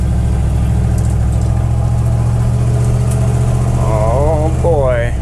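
Old Dodge Power Wagon truck rolling along with its engine droning steadily and loud up close, while a voice talks over it near the end.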